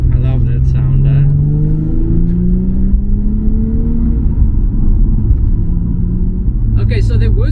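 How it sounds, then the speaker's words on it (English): A Nissan 350Z HR sports car engine downshifts on a mountain road, a loud close droning rumble with rising and falling revs blipping through gears. "Downshifts are nice. I love that sound, eh?"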